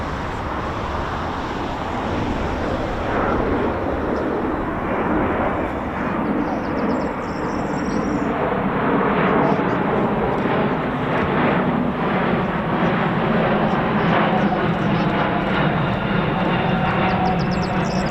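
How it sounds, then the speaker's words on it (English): An RAF Voyager tanker and Typhoon jet pass overhead during a flypast rehearsal, a broad, steady roar of engines holding at a fairly loud level for the whole span, with no speech. "C17, and we've also just behind that we've got a Voyager with the Typhoon. That is massive."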